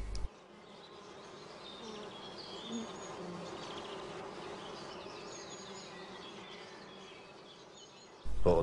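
A mass of honey bees working over brood comb, clearing out affected cells, makes a steady close hum of wings that stays even and unbroken for the whole stretch, alone without talk.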